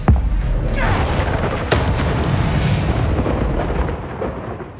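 In the wizarding game Hogwarts Legacy, an Expelliarmus spell goes off as a loud, booming magical blast with a rumbling, crackling tail, and a second sharp impact follows about a second later.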